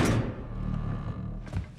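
A door thuds shut in Guild Wars 2, a heavy close impact at the start followed by a lingering tail and a second softer knock near the end.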